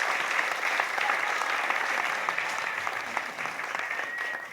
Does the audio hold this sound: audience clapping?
yes